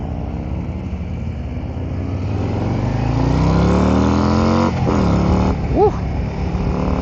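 A 2023 Harley-Davidson Road Glide ST motorcycle accelerating hard, a loud, close, steady V-twin engine roar that builds and holds, with wind rush throughout.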